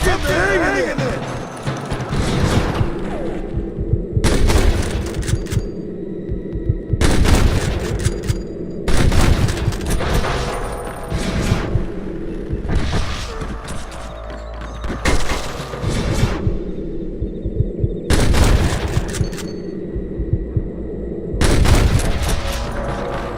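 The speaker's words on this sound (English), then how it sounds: "Damn fine shooting, boys" Repeated gunshots ring out in the Red Dead Redemption video game in a heavy Wild West firefight, with loud sharp bursts and volleys coming in waves over roughly twenty seconds, and voices heard between the shots.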